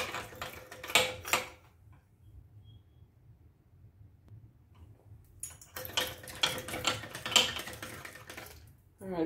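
Bread pudding ingredients mixed with croissants, quick clicking and tapping of a utensil against a bowl in two bursts separated by a quieter stretch, close and moderately loud, no talking.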